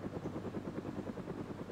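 Helicopter in a clan-match video game flies over a compound, its steady rotor thump pulsing rhythmically at moderate distance, fairly quiet and continuous with no talking.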